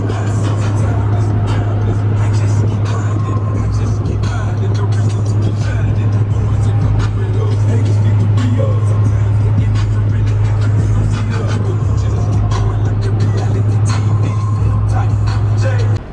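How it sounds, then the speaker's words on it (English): A Dodge Challenger R/T Scat Pack cruises along the I-35 West service road, its engine holding a steady, low, droning hum with road noise, heard from inside the car while people talk over it. "Challenger RT with the scat pack."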